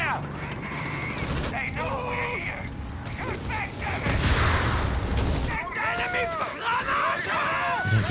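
Rapid gunfire and battle clatter in the real-time strategy game Company of Heroes 3, bursts of shots and mechanical noise in a 1v1 match with tanks, under an excited commentator's voice.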